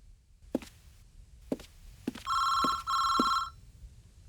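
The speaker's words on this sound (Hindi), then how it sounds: "फोन उठाओ" A telephone rings in two bright electronic bursts, preceded by a few soft knocks or footsteps; close and clear in a quiet room.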